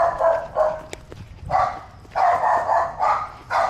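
A dog barks in several short bursts, close and fairly loud, with brief pauses between, no talk.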